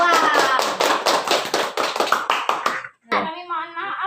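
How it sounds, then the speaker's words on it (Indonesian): A small classroom group claps for a student team presenting a project, a quick run of sharp, close handclaps in an uneven rhythm that stops abruptly before a voice begins speaking. "Kita beri tepuk tangan untuk kelompok 2."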